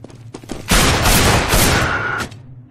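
Counter-Strike: Global Offensive gunfire: a few quick shots, then a dense, loud burst of automatic fire lasting about a second and a half before cutting off abruptly.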